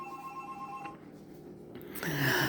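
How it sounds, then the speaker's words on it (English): A telephone rings in a home kitchen with a short bell-like trill, followed by a brief louder clattering burst as the ringing carries on, heard alone without talk. "phone."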